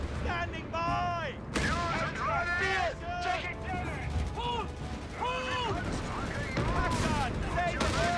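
Anti-tank and artillery fire in Company of Heroes 3 during a World War II desert battle at El Alamein: repeated booms and gunfire under frequent shouted soldier voice lines, with a constant battle din.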